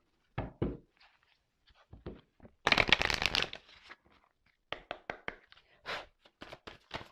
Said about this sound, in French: j'ai pris mes cartes